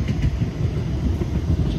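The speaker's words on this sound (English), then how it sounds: "There's a tram there." A tram rolling past on a street where seafront illumination fences are going up, a steady close rumble with faint rail clatter throughout.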